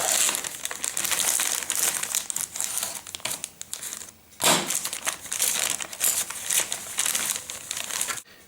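Plastic packaging crinkles and crackles in repeated bursts as an Airfix 1/32 scale WWII British infantry model kit box is opened, with close, uneven handling noises and a brief pause midway.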